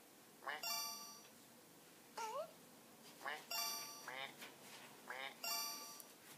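Cartoon duck quacks from the Squeak's Dreams video game come in short repeated bursts, mixed with bright chiming game tones over a quiet background.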